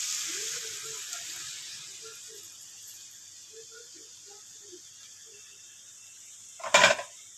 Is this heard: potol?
yes